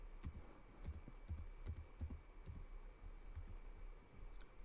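Someone types a transaction code on a computer keyboard in a quiet room, with a handful of close, crisp key clicks in an uneven rhythm that pauses briefly midway.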